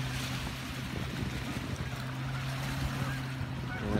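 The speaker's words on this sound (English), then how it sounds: "Oh, I can hear those waves." Lake water washing near a marina, a steady broad hiss of waves and wind with a low motor-like hum running underneath, continuous and fairly close throughout.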